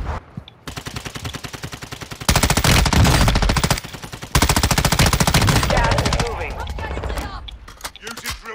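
Sustained machine-gun fire in a multiplayer shooter video game, long rapid bursts of loud automatic shots with brief pauses, tapering into scattered shots and distant battle noise, with voices talking over the action.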